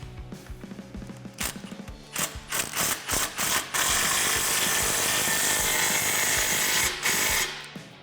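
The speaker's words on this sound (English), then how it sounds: "Grab your 15mm socket. I like to rotate this upward. We're going to tighten this down." A 15mm socket ratchet tightens the clamp on a Magnaflow axle-back exhaust on a 2015-2019 Dodge Challenger 3.6L, with a run of close, quick clicking strokes that build into a steady loud mechanical whir.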